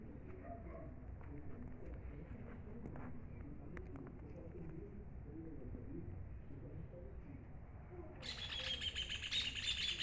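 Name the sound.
small birds chirping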